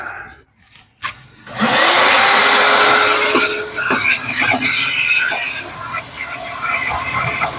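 A vacuum cleaner starts up after a few bumps and runs with a loud, steady whine inside a car interior stripped down to the floor, its pitch shifting as the nozzle moves.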